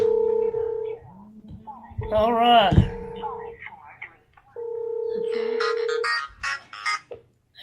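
A telephone dial tone hums, then a quick burst of touch-tone dialing beeps follows, and the tone returns, with someone talking briefly in between during a radio call-in show.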